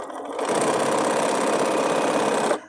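A sewing machine stitches quilt pieces together in one steady, close burst of buzzing that lasts a couple of seconds. It starts and stops abruptly, with no voices.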